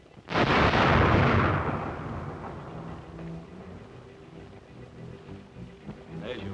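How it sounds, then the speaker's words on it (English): A rocket fires in a 1937 film soundtrack, a sudden loud blast with a whooshing roar that fades slowly over several seconds, followed by low rumbling background sound. "There's your rocket."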